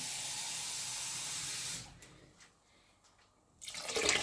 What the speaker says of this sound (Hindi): अब हम इसमें डाल देते हैं पानी।